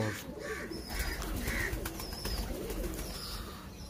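Pigeons coo softly in low, rolling calls, repeating over a steady background hum.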